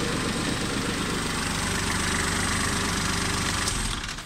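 Kubota tractor engine idling steadily with the finishing mower's PTO switched off, a continuous loud low rumble close by that holds even throughout before dipping slightly at the end; no talk.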